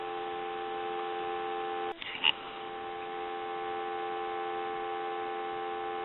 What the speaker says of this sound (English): I want to give you some dial tone.